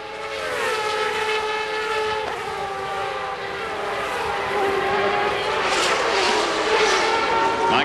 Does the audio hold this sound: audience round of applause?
no